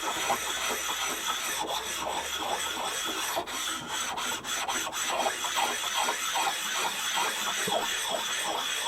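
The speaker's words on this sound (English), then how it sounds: "Just run the oil stone over the top," An oil stone rubbed back and forth over a metal replacement block for a lathe compound slide, its surface sprayed with WD-40. The close, steady rasping scrape runs continuously with no speech.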